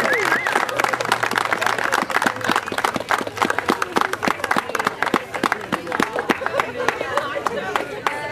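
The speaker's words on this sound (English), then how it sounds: "And how about one more nice loud round of applause for our entire soccer program." A crowd at a school soccer parent night applauds the entire soccer program, with sustained, lively clapping and scattered cheers and voices mixed in throughout, fairly close and full.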